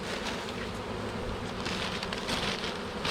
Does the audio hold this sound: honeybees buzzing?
yes